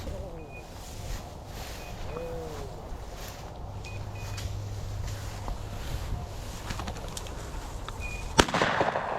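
A single loud shotgun blast near the end, fired at pheasants during a Thanksgiving hunt in open country, with birds calling and people talking at times beforehand.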